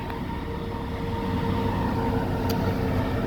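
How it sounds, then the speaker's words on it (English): A noisy train rumbles past steadily at a middle distance, a continuous low roar of rail wagons with faint tonal whine. The sound is heard on its own without talk for the whole stretch. "Noisy train."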